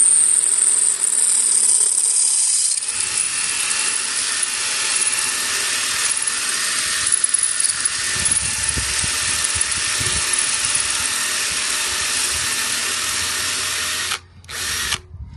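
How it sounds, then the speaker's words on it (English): A power drill bores out a rivet on the muffler band of a 2024 Harley-Davidson CVO ST, a loud steady whine held close for about fourteen seconds before it briefly cuts out and restarts. "When I drill this, the band will spring off."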